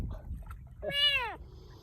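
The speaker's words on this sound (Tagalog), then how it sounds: "Panay miyaw miyaw niya." A single clear, drawn-out meow from a thin, hungry cat rescued from a flood rises and then falls, close by, over faint background rustling.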